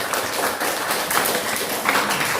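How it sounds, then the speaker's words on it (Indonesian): Many hands clap together in a continuous round for an audience at a school Quran quiz competition final, a steady mid-level patter with no speech on top. "Tepuk tangan yang mulia dulu."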